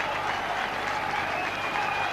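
Rugby league stadium crowd applauding and cheering as Widnes take the field for a Regal Trophy semi-final against Warrington, a dense continuous wash of clapping and crowd roar with faint whistles.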